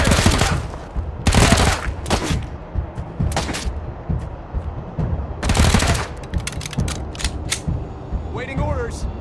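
Bursts of automatic gunfire and single shots ring out during combat in the Wasteland 3 video game, loud and close, firing in several clustered volleys with brief gaps and clicking mechanical sounds between them.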